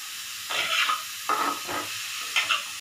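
Grated carrots are slowly fried in a pan for halwa, with three separate scraping stirring strokes over a low, faint sizzle, heard close with no voices.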